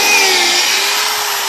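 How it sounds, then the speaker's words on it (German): A power drill boring holes runs loud and continuous at full throttle, a steady high whine held throughout without pause. "Die Luna darf die nächsten Löcher bohren"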